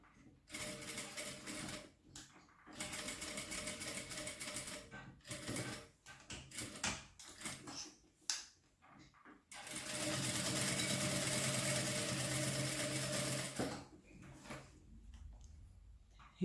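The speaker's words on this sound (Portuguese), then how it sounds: "Rebate a costura. Pode rebater só com meio pezinho de máquina também" A sewing machine topstitches a seam on a wallet in several rapid mechanical bursts of stitching, with brief pauses between runs and one long steady run; a voice talks at times in the gaps.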